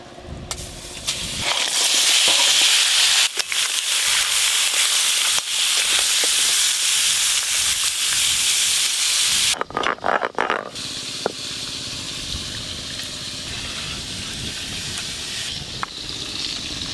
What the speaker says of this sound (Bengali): এবার কাতলা মাছের মাথা আমি ভেজে নেব।